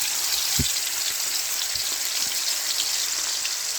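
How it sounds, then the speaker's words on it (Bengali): Onion, tomato, ginger and garlic paste hiss in hot oil as a continuous, even sizzle with a low thump near the start and faint scattered crackles, close and steady without speech. "পেঁয়াজ কুচি, টমেটো, আদা, রসুন সব বাটা আছে, সব দিয়ে দিচ্ছি তেলে"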